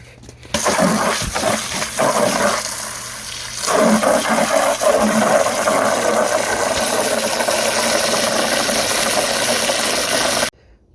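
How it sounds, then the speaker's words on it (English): Water gushes steadily into a container from a running tap, a loud continuous rush that cuts off abruptly near the end. "And then fill this bucket up about halfway with water."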